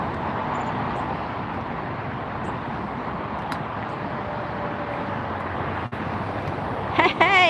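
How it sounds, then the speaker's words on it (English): An SAS airliner taxiing at LAX gives a steady, moderately loud engine rumble and whine under outdoor wind noise, with a brief squeaky sound near the end. "There goes SAS taxiing up."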